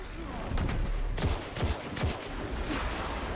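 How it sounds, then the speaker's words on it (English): Jade Rabbit scout rifle firing in the shooter Destiny 2: several sharp, evenly spaced single shots crack out close and loud over a continuous backdrop of game ambience. "I'm still hitting body shots with the jade rabbit in the air."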